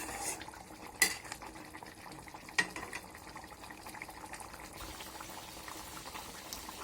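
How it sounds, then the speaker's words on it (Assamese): Taro leaf curry boiling under a lid in a pot on a high flame, a soft continuous bubbling simmer with two sharp clinks of utensils early on. "এইখিনি মই এতিয়া 5 মিনিটমান উতল আহিবলৈ দিম, হাই ফ্লেমত ঢাকি ৰাখিম।"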